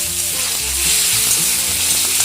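Spices tempering in hot oil for Odia vegetable dalma, a steady loud sizzle and crackle of frying that continues throughout with no talking.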